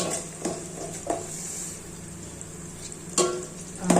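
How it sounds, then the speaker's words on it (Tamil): Onions frying toward golden brown hiss softly under a few sharp clatters of a ladle against the pan, scraping and knocking at intervals. "வெங்காயம் வந்து கோல்டன் பிரவுன், அதாவது பொன்னிறம் அளவு வறுத்தால் போதும்."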